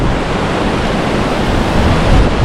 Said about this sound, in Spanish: Es una pasada el agua que va por aquí abajo.